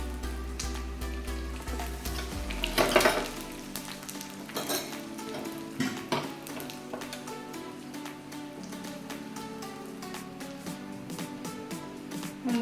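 Curry leaves dropped into a pan of softened onions crackle and sizzle loudly at first, then settle into a steady fine frying hiss with occasional pops, close and without talk.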